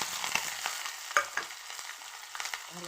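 Curry leaves, green chili and onion crackle and sizzle in a hot pan, with scattered pops and soft stirring scrapes over a steady frying hiss, close and moderately quiet.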